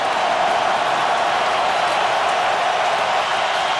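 A football stadium crowd at a Saints home playoff game against the Eagles roars in a steady, dense wall of cheering that holds without a break.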